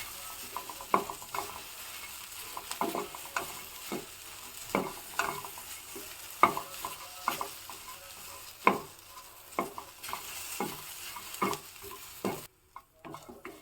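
Vegetables stir-fry in a pan for Karavali-style huli, a steady soft sizzle under repeated scraping strokes of a spatula against the pan at an uneven, regular-ish rhythm, close up and without talk.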